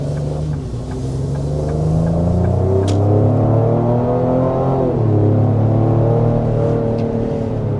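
Cabin view of a 2025 Ford Explorer SUV engine, a loud steady low drone that rises and falls in pitch as it accelerates and shifts, heard alone with no talking.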